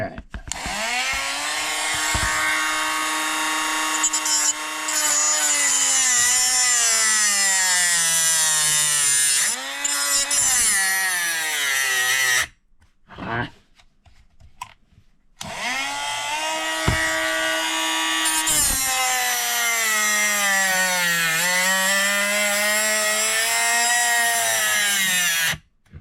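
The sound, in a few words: power tool grinding down a 1/64 farm toy part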